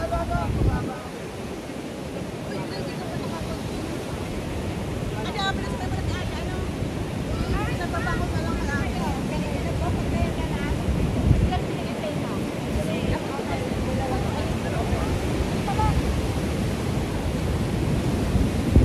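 Sea surf washes steadily onto the beach at Morong, Bataan, a broad continuous roar of breaking waves with wind buffeting the microphone, and people chat faintly in the background.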